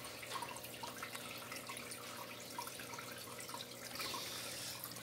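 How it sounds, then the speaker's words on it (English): A small water fountain runs inside a veiled chameleon's cage, giving a continuous quiet trickle and splash of flowing water, faint and steady throughout with no voices. "I like the fountain in there a lot too."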